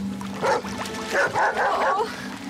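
Dog barking in a few loud, close yips and woofs with short gaps between, mixed with brief whimpering, while a person briefly speaks nearby.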